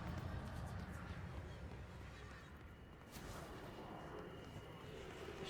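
Muffled gunshots and booming impacts from the video game Control rumble at a low level, dense and continuous, with a sharper hit partway through.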